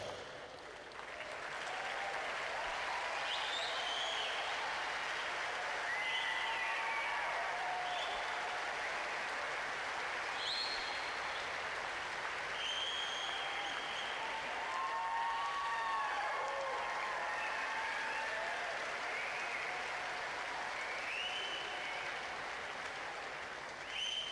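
Spectators at a Davis Cup tennis tie between Australia and Korea applaud the Australian team, a long, steady round of clapping from the crowd with a few whistles and cheers rising above it.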